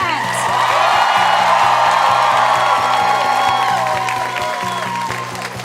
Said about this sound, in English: Big applause to Kat!